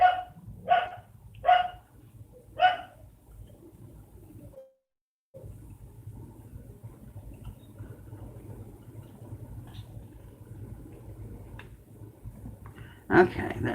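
Dogs bark indoors in a quick run of four sharp barks, then fall quiet under a low steady household hum, with one more loud bark at the end.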